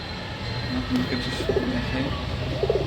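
Soft pigeon coos repeat a few times against a steady background hum, fairly close but not loud.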